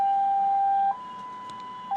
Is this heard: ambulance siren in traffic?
yes